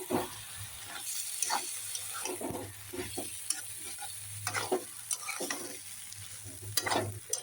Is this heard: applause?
no